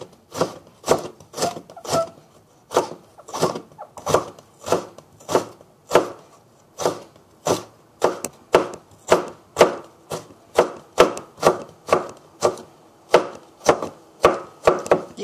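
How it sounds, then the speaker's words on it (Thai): A knife on a cutting board slices ginger into thin pieces in a steady run of crisp, evenly spaced chops, close and loud, with no talking. "พอเราหั่นได้บางๆใช่ไหมเราก็จะซอยง่าย"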